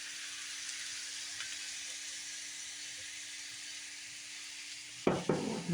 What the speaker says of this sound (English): I'm also going to add some soy sauce.